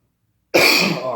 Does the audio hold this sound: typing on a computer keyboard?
no